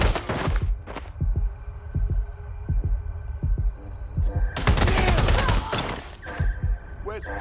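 Gunfire in the video game Watch Dogs: Legion crackles in rapid, repeated bursts, loud and close, over a thumping, pulsing game soundtrack and hum.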